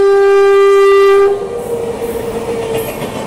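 A goods train locomotive sounds a loud, sustained multi-tone horn for over a second, then the horn cuts off, leaving a rushing rumble of the passing train.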